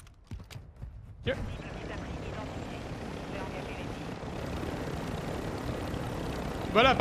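A helicopter in the video game Warzone 2 starts up after a few brief clicks, then a steady rotor and engine whir builds and holds, loud and close, while someone speaks over it.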